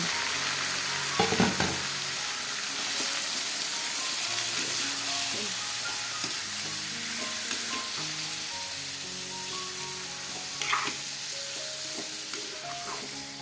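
Marinated chicken liver and gizzard fry in a hot pan with onion, giving a steady, loud sizzle throughout, broken by occasional scrapes and clinks of a stirring utensil.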